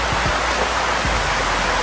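Heavy rain falls in a steady, dense roar of drops, loud and close, with no voices.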